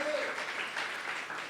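Congregation clapping during a church sermon, a brief, quiet wash of applause heard from a distance with a faint voice at the start.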